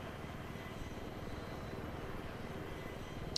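A helicopter in Battlefield 3 gives off a steady rotor thrum and engine drone, continuous and moderately loud, with a short sharp click right at the end.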